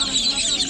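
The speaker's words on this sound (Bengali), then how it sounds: "আমাদের দেশি হাঁস" Native duck ducklings, four days old, peep in a dense, continuous chorus of high, overlapping chirps at a crowded bird market in Tongi.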